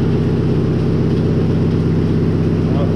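A John Deere machine's diesel engine idles at low throttle. The deep, steady rumble pulses evenly and stays loud and close throughout, with a faint voice under it.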